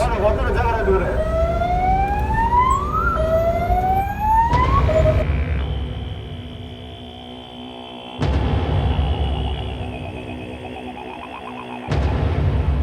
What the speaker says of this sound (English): ambulance drivers resort to loudspeakers to plea for access